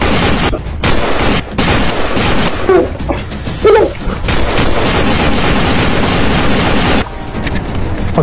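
Rapid bursts of gunfire crack and boom close by, volleys overlapping with short pauses, loud and echoing throughout.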